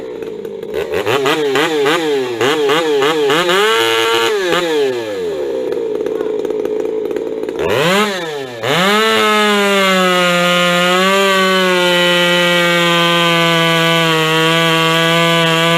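An Ironhorse raffle chainsaw bucks logs, its engine revving loud and close in rising and falling bursts, then holding a steady high whine through the cut.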